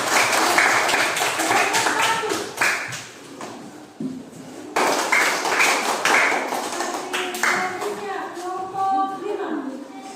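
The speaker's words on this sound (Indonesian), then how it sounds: "Tepuk tangan dulu." Children in a classroom clap their hands in quick bursts, with short pauses between, while other voices chatter around them.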